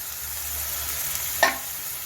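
Chicken filling in a pan with milk added sizzles softly and steadily, and a single brief spoon scrape stands out near the end over the low, even frying hiss.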